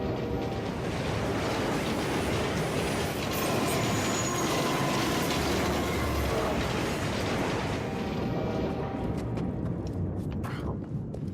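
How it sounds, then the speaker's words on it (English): A train thunders past in the Assassin's Creed Unity video game, a loud continuous rumble of rolling wagons with squealing wheels that fades slightly near the end, with faint speech underneath. "let's just not get hit by a train"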